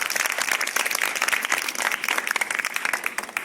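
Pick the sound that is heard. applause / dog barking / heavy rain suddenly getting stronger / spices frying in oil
applause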